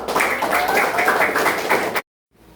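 Classroom of students applauding during a lesson, a close, lively burst of many hands clapping for about two seconds with a voice mixed in, then cutting abruptly to near silence.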